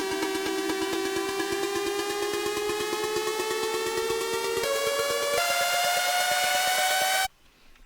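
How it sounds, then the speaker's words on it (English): Progressive house build-up risers: layered tonal sweeps climb steadily in pitch over a dense pulsing texture, stepping up twice before cutting off abruptly near the end, loud and alone. "we have a few risers right here"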